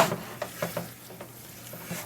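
Meat that includes Italian sausage, meant for ravioli and lasagna filling, cooks in a pan with a soft steady sizzle, punctuated by several light stirring taps and scrapes, close and alone.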